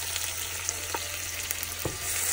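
Chopped onions frying in about a cup of oil in a deep pot for mutton yakhni pulao, a steady close sizzle with a few faint scrape-like ticks and no voices.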